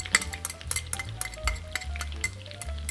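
Red onion sizzling in melted butter in a pan, with loud close stirring scrapes and clinks of a utensil against the pan over a steady frying hiss, no voices.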